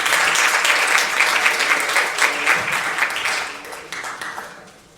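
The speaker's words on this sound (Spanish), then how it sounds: "vamos a recibir aquí a Diego Vázquez con un aplauso" An audience at a social public policy training session breaks into applause to welcome a speaker, a dense burst of clapping that holds steady for a few seconds and then fades away.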